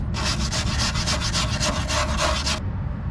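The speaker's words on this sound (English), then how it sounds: "Just gotta wire brush the crap out of it now." A wire brush scrubs rust off the bare metal of a car in quick, rhythmic back-and-forth strokes, loud and close, then stops abruptly.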